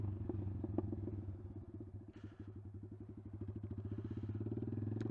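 A Honda Grom motorcycle engine idles with a low, steady thumping rhythm, then climbs to a faster, tighter pulsing as the throttle rises for a clutch pop, heard fairly faint and without voices.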